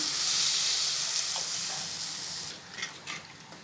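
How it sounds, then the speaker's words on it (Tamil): Tamarind water poured into frying masala for a small-onion and garlic kuzhambu, a loud rushing sizzle that drops away, followed by a few soft splashes and stirring sounds, no talk. "ஒரு பெரிய நெல்லிக்காய் சைஸ் அளவுக்கு புளி தண்ணியாக கரைச்சி வச்சுருக்கேன்,"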